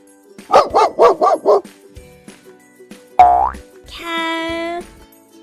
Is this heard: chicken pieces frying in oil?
no